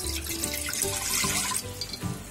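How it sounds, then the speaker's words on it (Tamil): Water pours steadily into the bottom of a pressure cooker, three tumblers' worth for cooking rice, with a continuous splashing gurgle close by. "ப்ரெஷர் குக்கர் அடியில் 3 டம்ளர் தண்ணி சேர்த்துக்க போகிறோம்"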